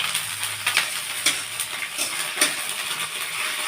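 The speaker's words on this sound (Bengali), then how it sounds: "ফোড়ন দিয়ে যে লঙ্কা পেঁয়াজটা একটু ভাজা মতন হয়ে এসছে" Peas tip into a pan of sizzling fried chili and onion, and the steady close frying hiss carries scattered scraping and stirring clicks throughout.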